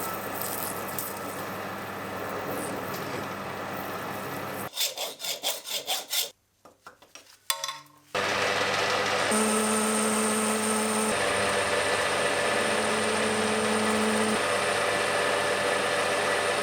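A metal lathe machines the steel shaft of a hydraulic gear pump gear, making a sustained scraping, rubbing cut. It breaks off into a few seconds of intermittent clunks, then resumes as a loud steady whine with tonal ringing.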